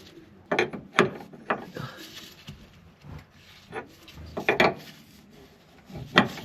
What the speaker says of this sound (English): We're going to go ahead and tighten this jam nut now.